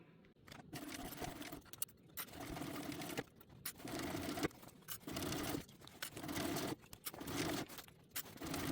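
A sewing machine stitches a sturdy fabric tote bag, running in steady bursts of close, loud motor whir separated by brief pauses where the fabric is adjusted, with no talk over it.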